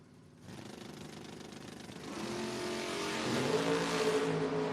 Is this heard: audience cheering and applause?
no